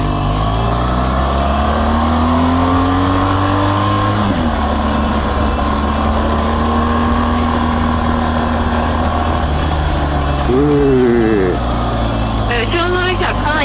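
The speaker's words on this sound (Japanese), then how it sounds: "このほらドカーンっていう加速がやばいね" A BMW accelerates hard on the Turnpike toll road, its engine droning loud and close as the pitch climbs steadily, with gear changes bringing sudden drops; wind and road roar fill the background while people talk over it.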